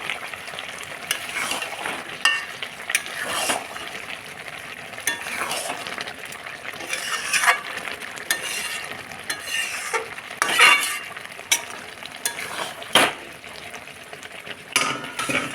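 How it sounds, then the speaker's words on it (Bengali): A spoon stirs cooked vegetables with fresh coriander leaves in a hot pan: repeated scraping and clinking strokes over a continuous sizzle, close and fairly loud, with no talking. "ধনে পাতাগুলো দিয়ে দিলাম। একটু নাড়াচাড়া করে সবজি নামিয়ে নেব।"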